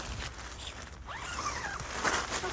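A tent door zipper on a Durston X-Mid Pro 2 is pulled open in one quick rising zip, heard up close over steady outdoor background noise.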